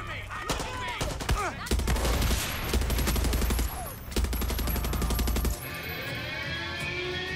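Gunfire in the video game Far Cry 6: bursts of rapid automatic shots and single cracks crowd the first five and a half seconds, with a brief pause between, then the firing stops and background noise continues.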